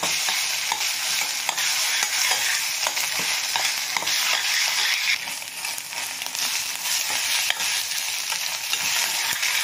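Ginger garlic paste sautés with onions in a pan for a non-veg gravy, producing a constant close sizzle with rhythmic stirring scrapes throughout and faint crackles, with no talking.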